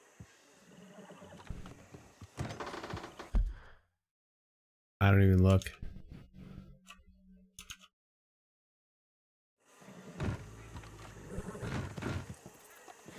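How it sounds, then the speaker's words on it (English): A horse in a video game panicking at a nearby alligator, giving loud snorting whinnies and shrill neighs in bursts separated by silent gaps, with a voice talking briefly. "My horse is panicking because of that alligator right there."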